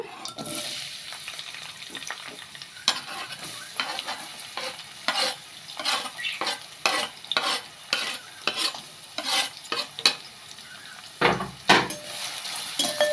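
Onions frying in a pan for chicken curry, with a steady sizzle under repeated scraping stirs of a utensil against the pan, close and fairly loud, with no speech.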